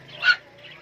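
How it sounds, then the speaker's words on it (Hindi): One short honking bird call, goose- or duck-like, inside a shop selling many kinds of birds, moderately near and brief against a quiet background hum. "इतना हर किस्म का परिंदा मिल वने।"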